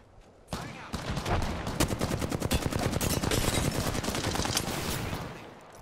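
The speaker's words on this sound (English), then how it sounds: "Battling the enemy. Firing" Sustained automatic gunfire from the video game Apex Legends on PS4, loud and continuous bursts of rapid shots for several seconds with no talking.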